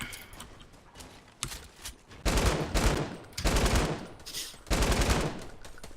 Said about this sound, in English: How many times I gotta shoot this guy?